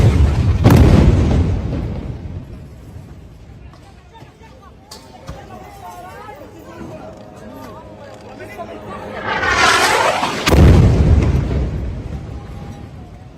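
A commercial high-rise building being blown apart in an explosion, captured on camera: loud booming blasts and rumbling debris, with a second heavy burst near the end, mixed with voices and crowd chatter.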